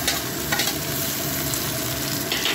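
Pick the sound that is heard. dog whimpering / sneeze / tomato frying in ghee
tomato frying in ghee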